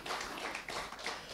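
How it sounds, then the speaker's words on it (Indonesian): A church congregation at a Sunday worship service claps together, a faint, dense patter of applause that lasts about a second and a half. "Berikan tepuk tangan buat Tuhan kita."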